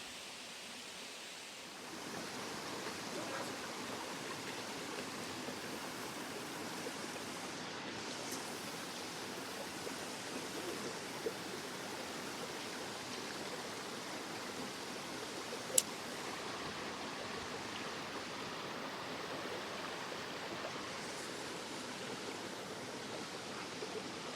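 Rainbow Falls, a waterfall in the Great Smoky Mountains, roars steadily in a broad, even rush of falling water that holds constant throughout, with no voices.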